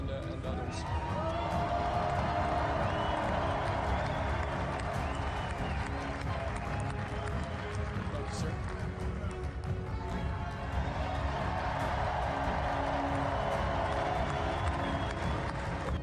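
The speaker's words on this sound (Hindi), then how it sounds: "कैपिटल बिल्डिंग के रोटुंडा में तालियों की गड़गड़ाहट गूंजती रही" Thunderous applause fills the Capitol rotunda after Donald Trump takes the presidential oath, a dense, steady roar of clapping from a large crowd that stays loud and unbroken from start to finish.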